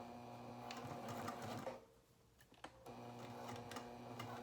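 Sewing machine running steadily while basting fabric for a coin purse card holder at a 2.5 stitch length, a close, continuous mechanical whir that pauses briefly midway, then resumes.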